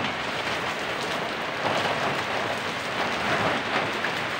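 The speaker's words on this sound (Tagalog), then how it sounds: "Hirap gumawa ngayon kasi umuulan." Heavy rain from Typhoon Paeng pours in a dense, constant hiss of drops striking surfaces nearby, with no voices over it.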